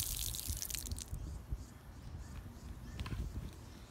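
Water splashes and drips from an outdoor tap opened with a four-way tap handle, with irregular patters and small splashes, a brighter gush at the start, moderately close and fairly quiet.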